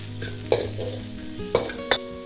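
Garlic, ginger, green chillies, onions and capsicum stir-frying in a pan for chilli chicken, a steady sizzle punctuated by three sharp spatula clanks, close and fairly loud with no talk.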